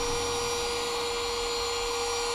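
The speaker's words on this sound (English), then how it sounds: "let the vacuum do the rest of the job" Steady, loud vacuum cleaner drone with a constant whine, held close while cleaning dust from a Toyota hybrid battery pack, running alone without pause.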